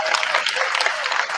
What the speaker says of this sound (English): a round of applause to a wonderful band